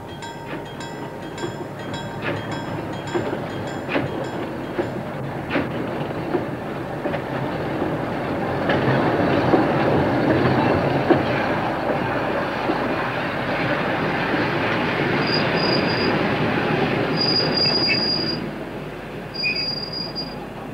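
Trains roll past a railway crossing in Stockholm, with steady rumbling and clattering wheels that swell in the middle, then high squealing tones toward the end. No voices are heard.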